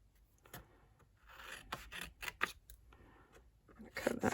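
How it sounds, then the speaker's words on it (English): Scissors snipping around a paper Christmas treat holder, a series of close, short cuts and rubbing paper rasps that grow denser toward the end, with no talking. "We're going to cut that one out."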